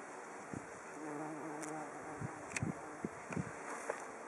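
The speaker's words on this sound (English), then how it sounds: "Right, this little bee," A small bee buzzes faintly around phacelia flowers outdoors, a thin intermittent hum broken by soft rustles and light wind noise.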